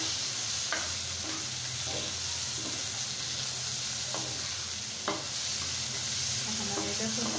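Chopped tomatoes and two diced green chilies fry in a pan, a steady close hiss of sizzling oil with occasional soft stirring scrapes and clicks, and no voices present.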